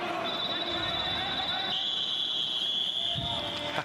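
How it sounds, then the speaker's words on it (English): Referee whistles blown hard by game officials to signal a timeout during a mixed 8-on-8 ultimate frisbee game, a long shrill steady tone held for several seconds over crowd and field noise. "Very aggressive whistling from our game officials for that timeout call."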